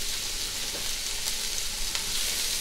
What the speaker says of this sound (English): I have put in some avocado oil and some butter, and we are going to sweat these ingredients.